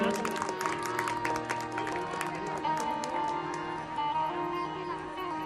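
An audience claps in applause at a Gujarati folk music dayro gathering, a dense patter of many hands heard at moderate distance, with a crowd murmur and some musical tones underneath.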